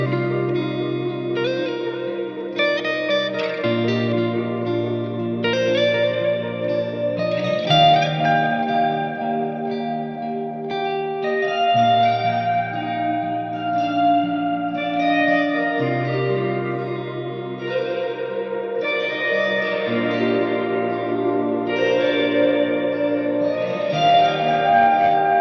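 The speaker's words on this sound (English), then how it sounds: "activate the reverb that is post looper and start playing with the decay knob and the mix knob" Layered guitar loops wash together under heavy reverb and echo, sustained chords and plucked notes blending into a continuous, shimmering ambient texture.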